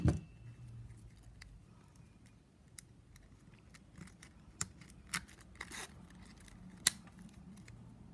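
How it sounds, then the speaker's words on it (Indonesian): Scissors snip plastic strapping band while a tiny woven shoe keychain is being made, giving a few sharp, quiet cuts spaced irregularly over a soft, low background hum. "Juga kita gunting."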